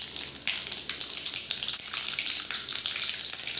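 Mustard seeds sputtering and crackling in hot oil while tempering for a spicy besan made from ground chana dal, a steady dense sizzle with scattered sharp pops, close and fairly loud, with no talk.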